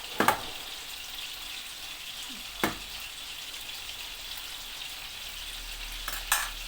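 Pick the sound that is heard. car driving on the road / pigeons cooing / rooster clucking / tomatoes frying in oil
tomatoes frying in oil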